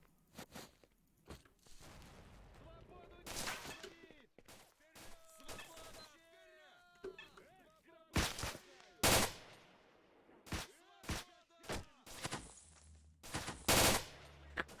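Gunfire in a hardcore S.T.A.L.K.E.R. mod, Priboi Story Overhaul: scattered loud sharp shots and short bursts, some close and some quieter, separated by gaps of quieter movement sounds, with occasional talking in between.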